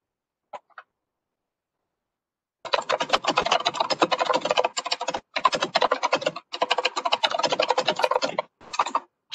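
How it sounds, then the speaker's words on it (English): Fast clattering keystrokes on a mechanical keyboard come in long bursts with short pauses between them, loud and close, after a couple of isolated clicks at the start. "Sorry, mechanical keyboard problems."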